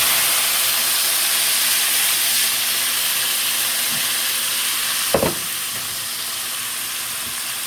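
Vegetables fry alongside parrot fish in a pan, giving a loud, steady, close sizzle throughout, with a single brief clank partway through.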